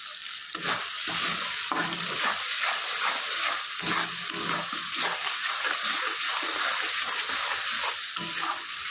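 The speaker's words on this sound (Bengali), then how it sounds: "মশলাটা ভালো করে কষিয়ে নিতে হবে যেন মশলা থেকে কাঁচা গন্ধটা না আসে।" Red chilli powder and spices fry in a pan for a banana flower dish, giving a loud continuous sizzle broken by rhythmic stirring scrapes, with no talking.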